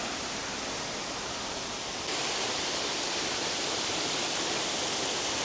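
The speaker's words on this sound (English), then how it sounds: "But that's the waterfall." A pretty waterfall roars in a steady, loud, broadband rush that fills the whole clip, a constant wash of falling water with no voices, its level stepping up slightly partway through.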